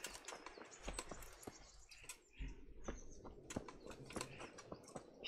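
Birds chirping in the medieval video game Kingdom Come: Deliverance, a string of short, sharp tweets scattered irregularly across a quiet outdoor ambience, some near and some farther off.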